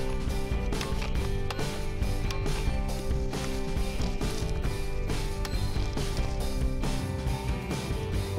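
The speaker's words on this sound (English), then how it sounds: "Pull it back, chain brake is disengaged, chain moves. Push it forward, engaged, chain will not move." A chainsaw's chain brake is repeatedly pushed forward and pulled back, producing a rapid series of sharp mechanical clicks and ratcheting clacks that continue loud and close throughout.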